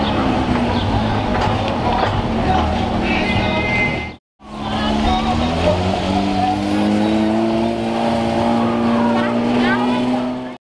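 Porsche TechArt Turbo S engine revving loudly nearby, a sustained rising roar broken by a brief gap before climbing again, with people talking over it.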